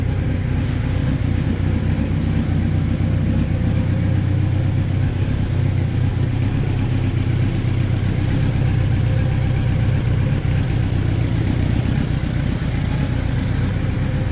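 A Kawasaki Z1000 motorcycle engine, about 20 years old, idles continuously at close range, a low rumbling drone with no voices and no change in pace throughout.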